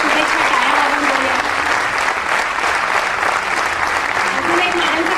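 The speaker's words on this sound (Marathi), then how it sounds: "आपण सगळ्यांनी त्यांना शुभेच्छा टाळ्या वाजवून बोलूया." A crowd at a community gathering applauds to wish a woman a happy birthday, loud, dense and sustained clapping that fills the room evenly from start to finish.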